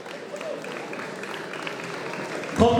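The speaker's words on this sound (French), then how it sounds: "On va applaudir et accueillir Léo Brion." A crowd applauds during a 10 km race podium ceremony as a junior third-place finisher from the Continentale club is called up, a faint, steady wash of clapping throughout, with a voice cutting in briefly at the very end.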